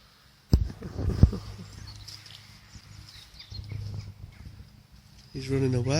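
Clip-clopping hooves on hard ground, a few sharp hits up close then a softer uneven rhythm, with a person talking and a brief whinny near the end.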